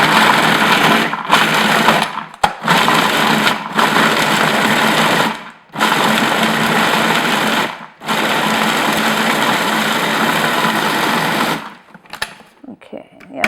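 A food processor pureeing dried fruits with confectioner's sugar, loud whirring runs in several bursts separated by brief pauses, then stopping with small clatters near the end.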